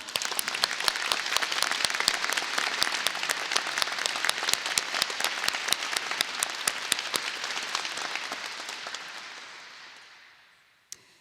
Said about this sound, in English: Can we all give our new president, Dr. Victoria Folse, a round of applause?